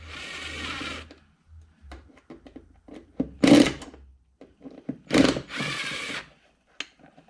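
Screws being backed out of a Bass Tracker boat, heard as a few separate bursts of close, buzzing driver whir with quiet gaps between them.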